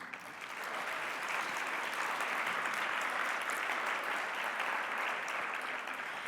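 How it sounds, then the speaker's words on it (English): Conference audience applause, a broad, even wash of many hands clapping that swells in quickly and holds steady, fairly soft and distant, with no voices on top. "another round of applause."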